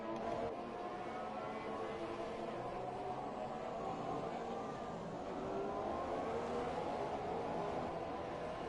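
Formula One car with a Force India engine in a racing game at Hungary, a steady moderate engine drone with a faint higher whine across the whole stretch, sitting under light background noise.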